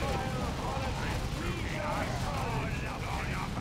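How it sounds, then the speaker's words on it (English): Dense, continuous gunfire and explosions from the real-time strategy video game Dawn of War 2, with orks in battle, forming a loud, unbroken wall of combat noise with no distinct gaps. "Hopefully I'm not being drowned out by orcs and gunfire"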